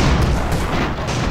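Cannon fire between airships in Airships: Conquer the Skies, a quick cluster of loud booming shots in close succession with rumbling low-end impacts.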